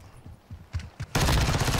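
VEL 46 rifle fire in Modern Warfare 2: a few short, separate shots, then a sustained loud burst of rapid automatic gunfire with no talking.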